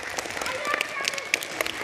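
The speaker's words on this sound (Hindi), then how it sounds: "तालियां बजा दो" Children clapping at a school welcome with cake cutting at The Shri Ram Universal School in Hisar, a brief burst of scattered hand claps with voices talking over it.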